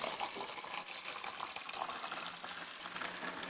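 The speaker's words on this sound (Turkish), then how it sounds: "Sıcak suyumuzu döküyoruz." Hot water from a kettle pours into a container, making a steady, fairly soft splashing and gurgling stream that continues from start to end with no talking.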